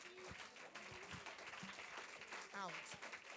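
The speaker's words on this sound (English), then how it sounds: "Why don't you stand with me, clap your hands, and give the praise to Jesus" A church congregation clapping along during a praise song, rhythmic hand claps under a singing voice with other vocal sounds, fairly faint and mixed.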